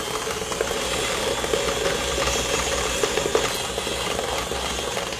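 Stand mixer with a paddle attachment creaming butter at a low-moderate speed, giving a continuous whirring motor hum with a soft, rhythmic churning rattle, steady and close.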